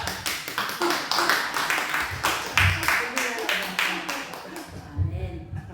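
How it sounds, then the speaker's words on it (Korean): A church congregation at a Thursday worship service claps in quick, uneven bursts, fairly close and lively, with voices mixed in among the hands. "박수 좀 쳐봐."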